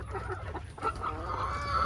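Backyard chickens giving a steady run of clucks and honk-like calls close by, with a faint rustle of feeding and no clear talk.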